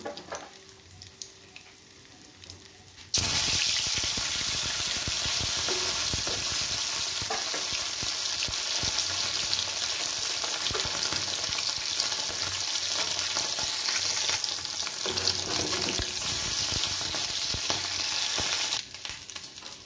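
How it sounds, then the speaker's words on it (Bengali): Steady loud sizzling of parshe fish frying in hot oil, continuous crackle filling most of the clip after a quieter start, with no talking. "বাকি মাছ দুটো আমি এইভাবে ভেজে নিচ্ছি।"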